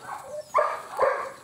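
A Belgian Malinois reunited with its owner after a month gives two short, excited whining barks close by, with a little background noise between them.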